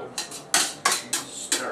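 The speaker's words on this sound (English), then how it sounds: "This corn's looking very good. Let's give this a little" Corn being stirred in a pot, heard as five sharp metallic clanks of a utensil against the pot in a quick, fairly even rhythm, close and loud with no talking.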